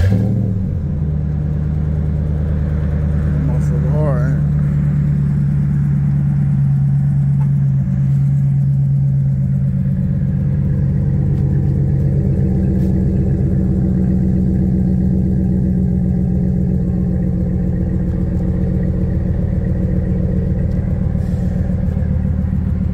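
A 4th-generation Dodge Ram pickup with an aftermarket muffler, started by remote start, idles with a deep, steady, loud exhaust rumble and a low drone that holds evenly throughout.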